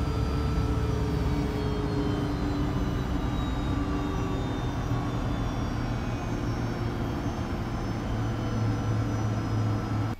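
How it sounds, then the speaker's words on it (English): Both jet engines of a Fokker 100 running, heard from the cockpit as a loud, steady drone with tonal whines, unbroken throughout. "both engines started"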